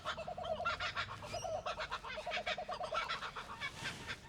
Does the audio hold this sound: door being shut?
no